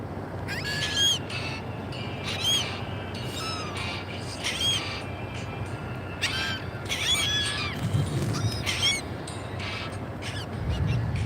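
Pet birds calling repeatedly, harsh crow-like caws and squawks in bursts throughout, close and fairly loud over a steady noisy background.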